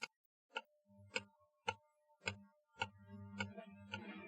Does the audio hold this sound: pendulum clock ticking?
yes